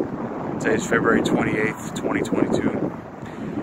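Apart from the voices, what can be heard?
wind blowing outdoors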